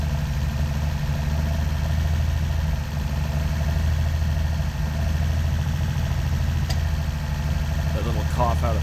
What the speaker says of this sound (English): But listen to this exhaust note.